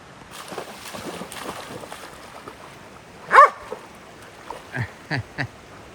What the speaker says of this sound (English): I don't think barking at him is going to help, Skye.